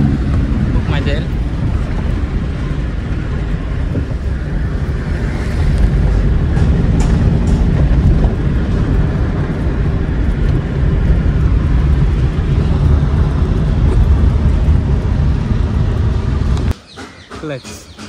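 A customer's car engine runs steadily in a loud, continuous low rumble for most of the time, then cuts out abruptly near the end, with people talking over it.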